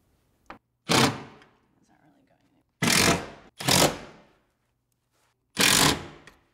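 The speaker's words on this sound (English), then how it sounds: "Then we tighten these screws." Short bursts of a power driver tightening screws to mount a Powerbox DPC 15000 electrical box on a wall, four distinct whirring runs separated by quiet pauses, close and clear.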